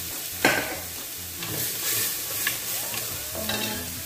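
Kabsa with pepper, lemon and celery is stirred in a pan, a soft steady sizzle with scraping strokes of the spoon and a few sharper clinks, no talking.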